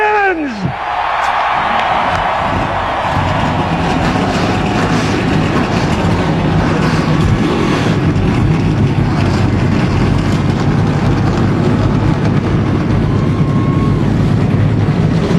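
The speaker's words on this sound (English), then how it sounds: "Gentlemen, start your engines!" A field of NASCAR stock cars fires its engines at the 2006 DirecTV 500 in South Central Virginia, a loud, dense, continuous roar of many engines that swells at the start and holds steady amid crowd noise and wind.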